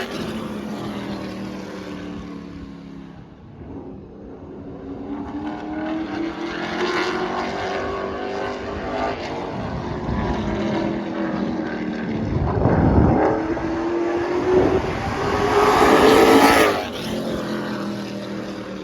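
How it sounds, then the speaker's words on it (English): A race car driven by Travis runs laps on a track, its engine droning steadily with rising and falling pitch as it passes, swelling louder near the end, with wind buffeting the microphone and no talk. "So I'll throw a clip in here of Travis running some laps."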